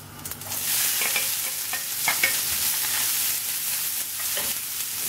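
Onion, chilli and curry leaves sizzle and fry in a pan during sabudana upma cooking, with scraping stirs coming at an irregular rhythm over a steady close crackle and no talking.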